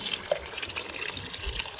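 Water rushes forcefully from an opened pipe outdoors, a continuous broadband gush with splashy bursts, fairly close and unaccompanied by speech.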